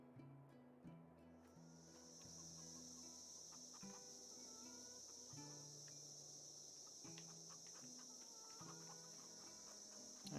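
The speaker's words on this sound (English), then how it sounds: "Alright, so the crickets are a little loud." Night crickets in the Farmville video game chirp as a steady, faint high-pitched drone that starts after a moment and continues throughout, over soft low tonal game sounds.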